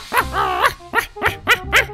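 A dog in the Minecraft video game gives several short, close barks and yips in quick succession, one slightly longer whining call followed by four sharp barks.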